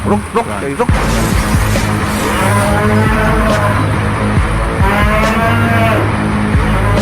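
A buffalo moos in a comic afterlife scene, long loud lowing calls drawn out over several seconds, close and dominant, with a voice speaking between them.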